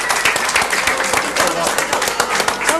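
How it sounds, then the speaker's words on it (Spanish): Studio audience applause welcoming a guest on an Argentine television variety show, a dense, steady patter of many hands clapping at close range with voices faintly mixed in throughout. "¡Qué es un aplauso a Don Julio!"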